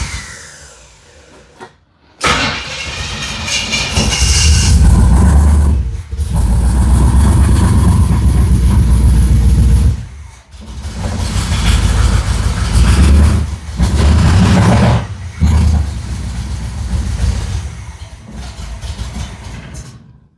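A 1969 Chevelle engine runs loud and rough near the microphone, surging and dipping in uneven bursts with several brief stalls or throttle drops, struggling to hold a steady idle.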